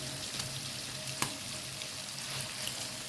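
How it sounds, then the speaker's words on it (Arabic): Carrots and onions sauté in a pan with chicken, giving a steady, close, moderate sizzle with faint stirring ticks throughout. "هنديها بس ايه تحميره كده، هديها بس تشويحه، ونحط لها بقى جزء كده من الجزر"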